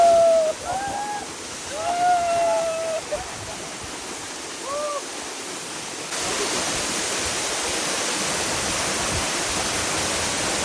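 The Salma Jharna waterfall gives a steady, dense roar of falling water, loud and close. Birds chirp briefly early on, and a voice is faintly present before the rush swells and holds constant.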